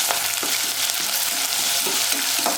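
Cashews, onions and curry leaves fry in a pan with a continuous close hiss, stirred with soft scraping taps.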